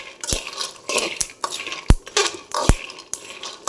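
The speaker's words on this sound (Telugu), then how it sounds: "ఈ విధంగా వేయించుకోవాలి ఫ్రెండ్స్." Peanuts are stirred and roasted in a pan, with a spoon scraping and knocking sharply against the metal in an irregular rhythm, close and fairly loud, and no speech.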